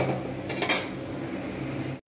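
Fried food is moved from the pan into another pot, with metal utensils scraping and clinking against cookware in a continuous clatter, a few sharper knocks, and a brief silence just before the end.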